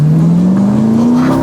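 A supercar accelerates hard, its close, loud engine note climbing steadily in pitch in one continuous pull with no talking.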